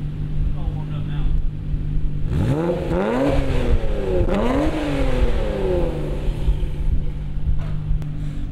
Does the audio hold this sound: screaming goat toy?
no